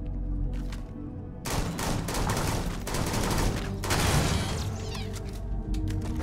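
Hostile turret in the video game Starfield firing rapid, dense bursts of gunfire that start abruptly and keep going, loud and sustained over a low rumble.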